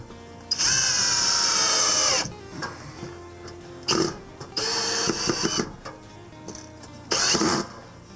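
A power drill whirs in three long bursts while drilling holes to install a Werner compact attic ladder, pausing between runs, with clunks and handling knocks in the gaps, loud and close.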